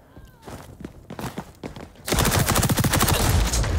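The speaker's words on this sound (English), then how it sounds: "A shotgun." Shotgun fire in the video game XDefiant, starting with scattered thumps and clicks and then a sustained, loud, dense burst of rapid gunfire for the last second and a half.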